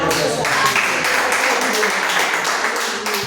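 Congregation applauding inside a church during a service, a steady dense wash of clapping that holds evenly throughout at moderate loudness, with a murmur of voices mixed underneath.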